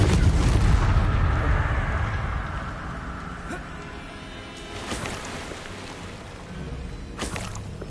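A Bombarda spell goes off in Hogwarts Legacy with a loud, deep explosive boom that rumbles and slowly fades, followed by fainter game effects.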